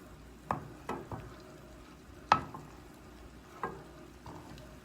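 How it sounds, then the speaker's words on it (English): Butter melting with milk in a saucepan is stirred now and then, a handful of soft scrapes and light knocks of the spoon against the pan over a quiet, low simmer, with no talking. "So I just want to keep giving it a stir so that it does not scorch."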